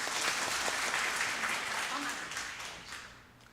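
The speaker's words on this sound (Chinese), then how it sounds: "给他鼓掌一下。" An audience claps at a school graduation ceremony, sustained dense applause that fades away toward the end, with a voice briefly audible.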